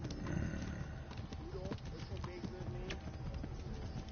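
A tired horse trots in the medieval video game Kingdom Come: Deliverance. Soft, regular hoof clops sit low in the mix under speech and game background noise.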